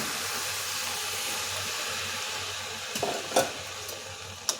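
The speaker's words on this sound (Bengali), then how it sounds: "এখন এই ক্ষীরটা হালুয়ার মধ্যে, এর গাজরের মধ্যে ঢেলে দেব।" Steady low sizzle from a pan of carrot halwa, with a few soft scraping and pouring clatters near the end as kheer is added; no one speaks.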